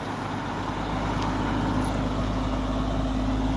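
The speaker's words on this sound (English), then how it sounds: "that's a noisy truck." A noisy truck passes close by on the road with a loud, steady engine drone and low rumble that holds throughout and drowns out everything else.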